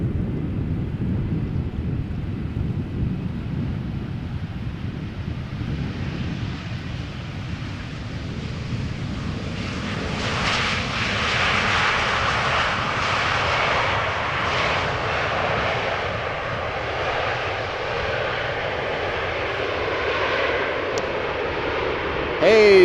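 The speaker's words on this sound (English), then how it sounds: "This is an A320 Neo arriving from Geneva." An Airbus A320neo arriving from Geneva at Amsterdam Schiphol sweeps past with a broad jet roar that swells and holds, mixed with wind buffeting on the microphone, and a voice talks over it.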